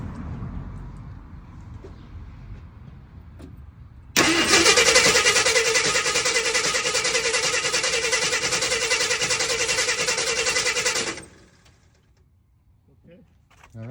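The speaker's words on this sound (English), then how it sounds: "I'm going to crank for about 10 seconds" Starter motor cranking the engine of a 1972 Ford F-250 during battery drain testing: a loud, steady whirring crank that holds for about seven seconds and then cuts off, with talk and quiet before and after.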